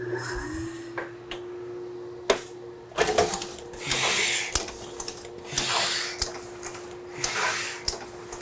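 Letterpress ink rollers spread ink over the small distributing cylinder of a printing press, a steady mechanical hum with rhythmic clicks, clacks and soft swishing passes repeating every second or so, close by and without speech.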